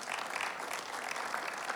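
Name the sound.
audience applause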